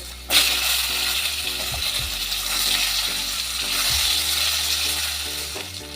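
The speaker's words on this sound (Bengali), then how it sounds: "এটাও ভেজে নেব" Steady sizzling of potatoes and pointed gourd frying in hot oil, with occasional clinks and scrapes of a utensil against the pan and no talking.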